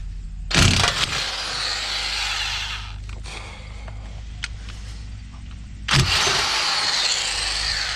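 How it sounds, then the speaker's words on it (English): A wire brush scrubs rust and grime off a steering knuckle on a P30 motorhome chassis: a harsh, loud scouring burst lasting about two seconds, a quieter rasping stretch with a few sharp knocks, then another loud scrubbing burst near the end. "I'm gonna go with the wire brush here and clean everything up."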